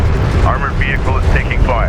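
Airstrike explosions in Homeworld: Deserts of Kharak, a continuous loud rumble of blasts with whining, pitch-sliding aircraft or projectile tones over it. A voice speaks in places.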